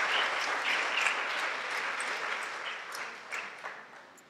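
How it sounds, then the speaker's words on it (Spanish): A church congregation at a morning service applauds, with dense, sustained clapping from many hands that gradually fades, with no talking over it. "Denle ese aplauso fuerte al Señor esta mañana."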